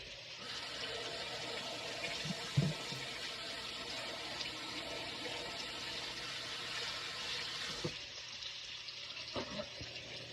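Hands washed under a running kitchen tap make a steady close splashing rush of water for several seconds, with a few knocks and handling sounds near the end and the flow stopping.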